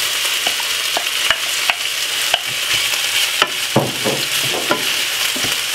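Saltfish frying Jamaican-style in a hot pan gives a loud, steady sizzle, broken by several sharp scrapes and knocks of a utensil stirring it up close.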